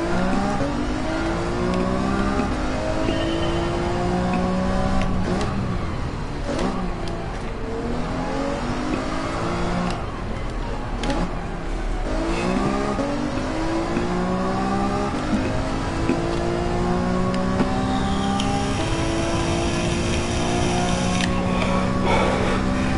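Race car engine in Gran Turismo 7, revving hard through rising and falling gear sweeps with continuous loud mechanical whine and occasional sharp transients, steady and close throughout with no talking.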